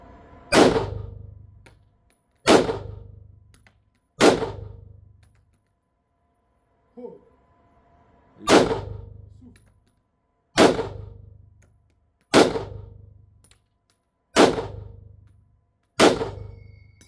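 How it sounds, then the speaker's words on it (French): An M1 Garand rifle chambered in .308 fired outdoors: eight sharp, loud shots at roughly two-second intervals, each with a short ringing decay, plus one faint metallic clank in a gap between shots. "M1 Garand en 308."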